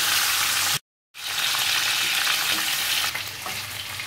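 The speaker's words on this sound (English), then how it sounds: "Fry the fish lightly." Fish pieces coated in turmeric and salt frying lightly in hot oil, a loud dense sizzle that cuts out briefly near the start and then resumes steadily.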